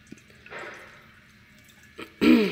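Water trickles and splashes as it is poured into a portable domestic vapor steamer, with faint dripping early on and a louder gurgling pour near the end, close up and without talk.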